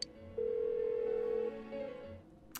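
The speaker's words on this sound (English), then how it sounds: "Why won't she pick up the phone?" An unanswered phone call in the video game Persona 4 Golden plays as a long, clear electronic ringback tone, then a short second beep over soft background music, with no voice.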